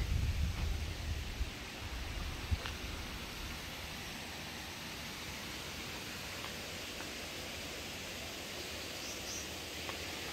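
Blustery wind buffets an outdoor spot by New Pool in Coalbrookdale, Telford, making a steady broad rushing roar with heavy low rumbles at the start that ease into a constant hiss.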